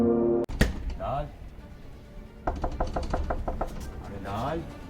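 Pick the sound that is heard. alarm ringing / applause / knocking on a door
knocking on a door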